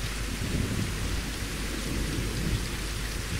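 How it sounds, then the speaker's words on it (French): Heavy rain and thunderstorm weather in the survival video game Reign of Kings: a dense, steady hiss of rainfall with deep rolling thunder rumbling underneath, continuous and loud with no voices. "Le son de la pluie aussi est bien foutu."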